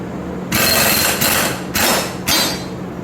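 An impact wrench hammers on a lawn mower blade bolt in three or four short, loud bursts, each a harsh rattling buzz lasting about half a second with brief pauses between, close up.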